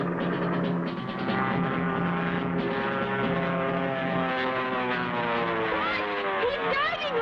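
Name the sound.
propeller plane flying in a cartoon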